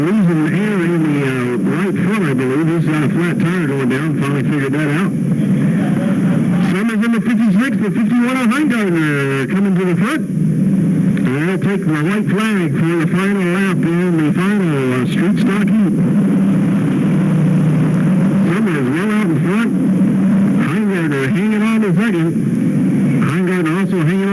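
Race cars roar past at Sunshine Speedway, engine pitch swooping up and down as they go by in waves, with a track announcer talking over the continuous loud noise.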